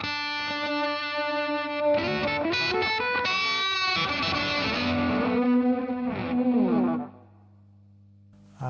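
A distorted electric guitar, run through distortion, a boost and then a delay, plays a sustained lead line with echoing delay repeats, one per side, ringing out before cutting off near the end.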